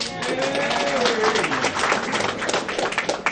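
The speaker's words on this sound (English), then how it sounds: "so applaud yourself" Crowd at a local historical society meeting breaking into brisk, mid-distance clapping, with voices and speech mixed in underneath throughout.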